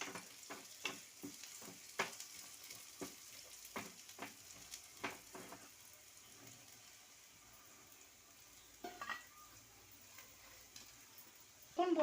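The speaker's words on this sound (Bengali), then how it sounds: "এখন আমি বড়িটা এই পাশে ভেজে নেব।" Crushed lentil dumplings (bori) fry in oil in a pan, giving faint, scattered crackles and light pops over a quiet kitchen background.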